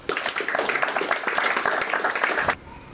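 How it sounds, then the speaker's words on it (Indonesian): Crowd clapping in applause for Bang Parit after a team's run in the regular series, a close burst of mixed hand claps lasting a few seconds before cutting off abruptly. "tepuk tangan untuk Bang Parit"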